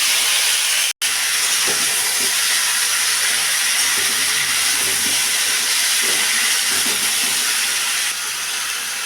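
Vegetables dropped into a wok of hot ghee tempered with cumin and green chilli sizzle loudly and steadily, a close, dense hiss with a brief cut near the start and no talking.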